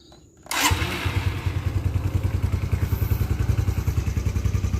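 A 2004 Suzuki Shogun 125 R motorcycle engine cranks and catches after a brief click, then settles into a loud, steady, rhythmic idle close by.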